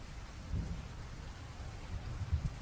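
Rain and thunder effect in an audio drama about steam engines in a shed, a steady wash of rain with low rumbling thunder swelling twice, soft and continuous with no voices.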